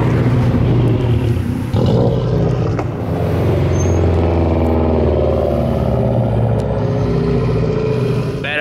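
A turbocharged VW Jetta roars close by with a loud, sustained engine note that swells and shifts as it revs past, with faint voices underneath.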